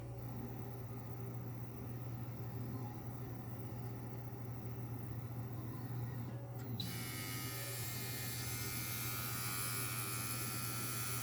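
Centri Evader 3 Titan rotary tattoo machine running steadily, a constant close electric hum and buzz that grows brighter and more whining partway through.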